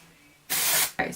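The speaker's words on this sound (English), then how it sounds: "so we've just got done using dry shampoo" Dry shampoo sprays onto sectioned hair in a braiding session, first as one close, loud hissing burst of about half a second, then a second shorter puff after a brief pause.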